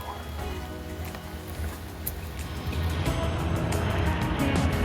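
Car driving through a heavy downpour in Washington, with steady broadband rain noise and a low engine and road rumble that swells louder toward the end, no talk over it.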